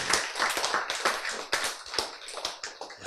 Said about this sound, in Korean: 자, 이때 박수 한번 쳐야지.